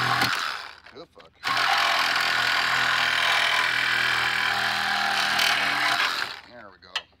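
A hacksaw cuts through a part on a Harley motorcycle during a light conversion, a loud, steady, close rasping grind lasting about five seconds, with brief handling noises before and after.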